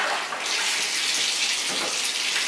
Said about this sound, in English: I put the plug down on the tub so that it starts filling up with water